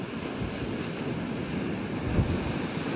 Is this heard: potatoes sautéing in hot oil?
no